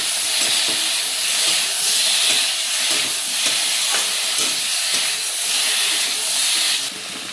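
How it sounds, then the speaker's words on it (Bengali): Taro and turmeric powder fry in a pan, giving a steady, loud sizzle and hiss throughout, with soft stirring scrapes and no talking. "দিয়ে দেবো হলুদের গুঁড়ো, তারপরে কচু দিয়ে একটু ভালোভাবে কষে নেব।"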